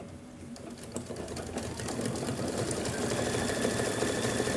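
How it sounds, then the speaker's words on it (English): A sewing machine runs decorative stitching on a Kimberbell mug rug, a rapid, steady mechanical whir and needle chatter that builds slightly in loudness and continues without a break. "So it's going to do some decorative stitching."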